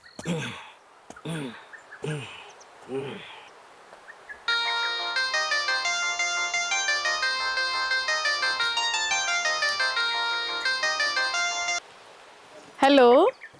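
A phone ringtone plays a bright, rapid electronic melody of repeated beeping notes for several seconds, preceded by short chirping sounds and followed by a rising tone, all fairly loud.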